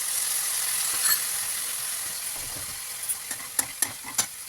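Chilli potatoes with pepper, Kashmiri red chilli and cumin sizzle as they are stirred in a pan. A steady hiss runs under a few sharp spatula scrapes near the end, close up with no voices.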